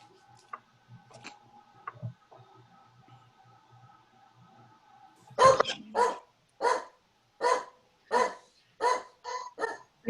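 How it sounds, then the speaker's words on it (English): A dog barks during an online planning and zoning committee meeting, loosing about nine loud, evenly spaced barks after a quiet stretch of faint room noise, with no talking. "Hearing a dog."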